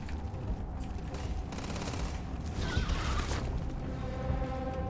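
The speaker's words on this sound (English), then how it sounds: "Something shooting projectiles at me?" Gunfire and projectiles in the video game Starfield, a dense continuous barrage of rapid shots and booms blended with game sounds, loud throughout with no talk.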